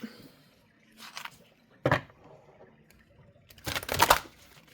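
A few short papery riffles and flutters of a large, hefty tarot deck being shuffled, quiet and close, in separate bursts with pauses between them.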